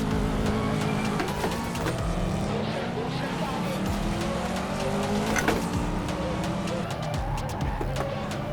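Racing cars in the video game Assetto Corsa, with steady engine roar, rising and falling revs and occasional tire squeal running throughout at a loud, constant level.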